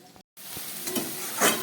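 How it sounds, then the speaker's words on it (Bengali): Banana flower curry with fried spices being stirred in a pan, a soft sizzle with brief scraping strokes of the spoon after a short pause at the start. "ভাজা মশলা আর সবজিটা খুব ভালো করে মিশিয়ে নিচ্ছি।"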